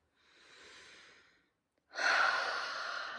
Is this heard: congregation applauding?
no